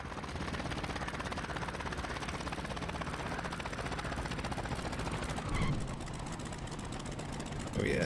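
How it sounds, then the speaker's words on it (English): Steady, loud engine drone of a twin-engine aircraft landing in the IL-2 Sturmovik flight game, continuous throughout with a brief swell near the end. "Gonna make a nice gentle landing here."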